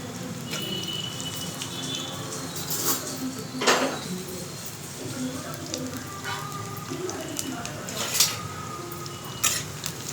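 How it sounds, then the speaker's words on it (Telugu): Bitter gourds frying in oil in a pan, a steady low sizzle with occasional scraping and clinks of a utensil against the pan, no one talking. "ఇప్పుడు కాకరకాయలు వేయించుకుందాము."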